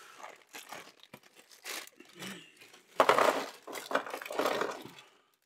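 Plastic bags of miniatures from the War of the Ring board game being opened, with close, irregular crinkling and tearing that grows louder toward the end, and no talking.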